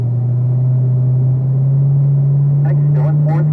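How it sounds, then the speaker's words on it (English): A Corvette Z06 engine drones under throttle on a race track, a loud steady in-car hum that rises slightly in pitch, with a person speaking over it toward the end. "then you can start to squeeze into that throttle"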